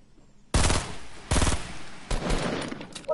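Automatic gunfire in the Fortnite Battle Royale video game comes in three loud, close bursts of rapid shots separated by brief pauses.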